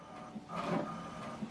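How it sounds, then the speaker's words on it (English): An HP Deskjet printer printing an alignment page, its carriage and feed mechanism whirring and grinding steadily at close range for a short stretch. "So what it's doing now is printing the alignment."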